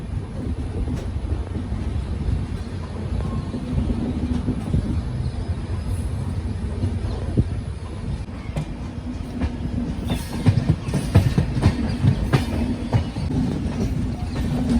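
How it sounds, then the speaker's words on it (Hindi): The Howrah Barmer Superfast Express, hauled by a WDG 4D diesel locomotive, pulls out of Rewari Junction with a loud, continuous rumble and rolling wheel noise, with scattered clacks and squeaks over the rails. "2 मिनट के हॉल्ट के बाद डिपार्चर होता हुआ रेवाड़ी जंक्शन से।"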